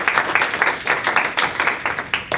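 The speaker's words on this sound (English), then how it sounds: "Can we give a round of applause for our panel?" Brief round of audience applause for a panel at an evening fireside chat Q&A, a moderately loud scatter of individual claps, rhythmic and close, lasting a couple of seconds.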